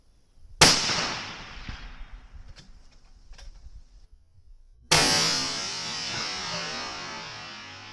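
Two sharp rifle shots crack out loud and close in the field while a scope is being zeroed, the first followed by a decaying echo and a faint clink, the second leaving a long rolling reverberation.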